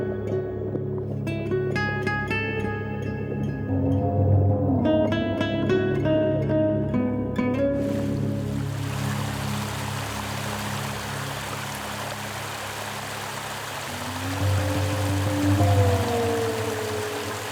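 Small clear-water river flowing in the Dominican Republic, a steady rushing wash of water that emerges in the middle, set between passages of music.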